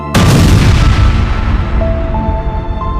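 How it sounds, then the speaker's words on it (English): The 1937 Hindenburg hydrogen airship explodes while landing at Lakehurst. A sudden loud boom bursts out and fades into a heavy, sustained roar. "without warning, the sky exploded"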